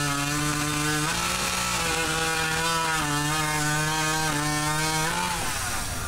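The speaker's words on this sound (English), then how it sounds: "We got the chainsaw that's going to go on that section and the hot saw." A chainsaw used for log sculpting at a Maryland state fair, running loud and close without a break, its engine pitch rising and falling as the throttle is worked and the blade cuts into wood.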